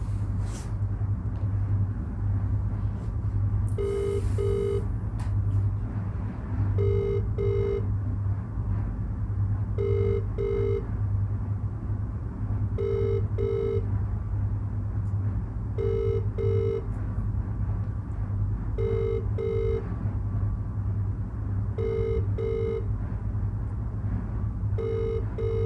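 An outgoing phone call rings through a speakerphone held near a microphone, with repeated paired ringback tones every few seconds over a steady low rumble and no talking.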